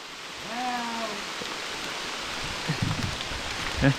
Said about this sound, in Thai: โอ้ฝนตกแล้ว